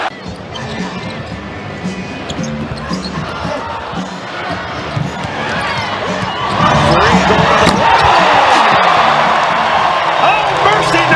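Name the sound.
arena crowd chanting and cheering after dunk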